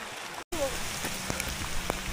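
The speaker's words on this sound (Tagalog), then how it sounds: "Nabot kami ng malakas na ulan." Heavy rain falling at a native house inn and view deck in Banaue, a dense continuous hiss of drops striking surfaces with scattered louder splats, after a brief cut near the start.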